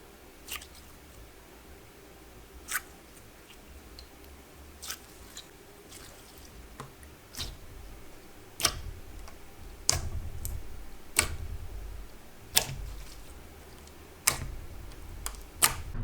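Lavender purple, glossy, thick slime being handled, giving sharp scattered clicks and pops at an irregular pace, close up and quiet, growing denser toward the end.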